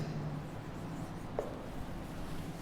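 Someone writes on a board with soft, faint scratching strokes, quiet and close, with one brief squeak partway through.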